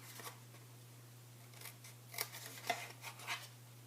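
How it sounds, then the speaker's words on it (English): Scissors snipping up the tabs of a paper box for an Easter basket, a few crisp close cuts spaced over a few seconds against a low steady hum. "Then you're going to cut up on these tabs just to the 1 inch mark on the bottom of the box."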